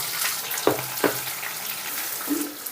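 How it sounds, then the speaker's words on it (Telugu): Finely chopped onions frying in a pan with cumin, dried red chilli pieces and curry leaves, a steady close sizzle with two sharp stirring scrapes early on and a brief clink near the end, no voices. "మన ఉల్లిపాయలు అయితే చక్కగా ఫ్రై అయినాయి"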